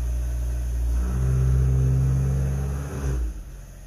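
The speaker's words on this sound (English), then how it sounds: "You can hear the intake growling." A Fiat's deep, throaty engine intake growl swells and holds during a brake test, then drops away near the end, close and loud.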